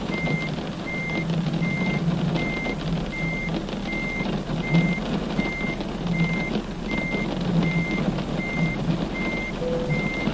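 A truck's reversing alarm in Euro Truck Simulator beeps steadily at an even pace over a low idling engine rumble, continuous throughout.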